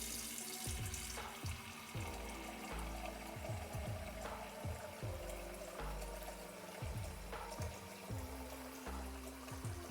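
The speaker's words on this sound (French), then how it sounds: "vous remplissez votre casserole d'eau" Water runs steadily from a tap into a saucepan, a continuous splashing flow with low gurgling pulses, close by and with no voices.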